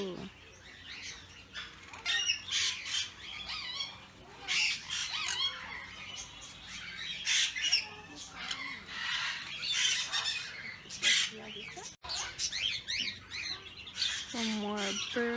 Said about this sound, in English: Some more birds.